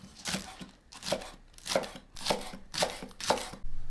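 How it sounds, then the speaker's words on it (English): A knife slicing two spring onions for Thai crab fried rice, six crisp evenly spaced chops against a board, close and clear, with no voices. "Slice 2 spring onions."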